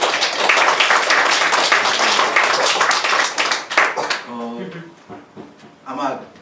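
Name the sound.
audience applause in church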